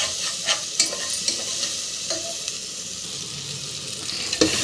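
Soaked, rinsed and drained chana dal fries in a hot pan while being stirred: a constant sizzle with irregular scraping and clinking of the spoon, close up and with no voices.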